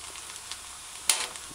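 Smashed plantain fries in a pan with oil, giving a soft steady sizzle with a brief sharper crackle burst near the end, close and quiet with no talking.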